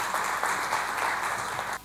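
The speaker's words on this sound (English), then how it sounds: "Round of applause for Michelle." An audience applauds a speaker at a talk on preparing students for an AI-driven world, a steady wash of clapping that cuts off abruptly at the end.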